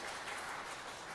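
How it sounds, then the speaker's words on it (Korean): Church congregation applauding the choir during a Sunday worship service, a steady, even wash of clapping filling the whole moment without pause. "우리 찬양대에 한번 박수를 보낼까요?"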